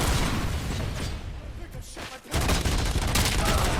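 Grenade blast and heavy gunfire in the RoboCop Rogue City video game, a loud dense barrage of rapid shots that dips for a moment before a renewed burst, with a voice talking over the action.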